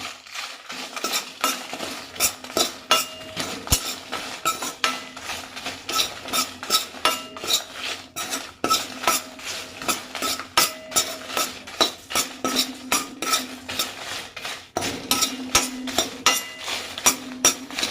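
A spoon scrapes and clinks against a pan while dried red chilies and coriander powder dry-roast without oil, in a rapid, continuous rhythm of close metallic taps and stirring.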